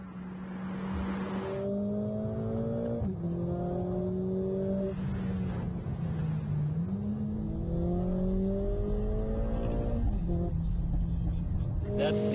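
A Mercedes-AMG A45S, the small high-output hatch, accelerates hard around the Circuito del Jarama near Madrid, its engine note climbing through the gears in repeated rising sweeps with brief shift breaks, loud and sustained.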